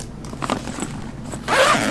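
Zipper on the front pocket of a Ju-Ju-Be BFF diaper bag being pulled shut in one brisk close-up rasp, ending in a louder scrape, with no talking.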